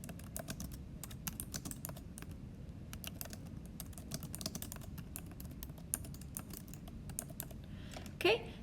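Steady run of quick keystrokes on a computer keyboard, typing a citation entry, close and fairly quiet, with a brief louder click near the end.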